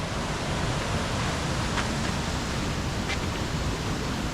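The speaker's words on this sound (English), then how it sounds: "Nice little seasonal creek crossing." Steady broadband rush of water from a small seasonal creek crossing a shady section of the Mount Whitney trail from Whitney Portal, a constant close wash with a couple of faint brief ticks.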